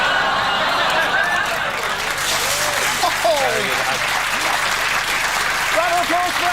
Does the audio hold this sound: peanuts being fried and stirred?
no